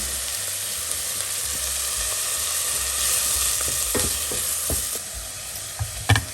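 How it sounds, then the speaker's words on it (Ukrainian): Onion and carrot fry in a pan as the base for a homemade tomato pizza sauce, with a steady, dense sizzle throughout. A few light scraping stirs and clinks come near the end, and no one speaks. "можемо вже починати обсмажувати наші овочі"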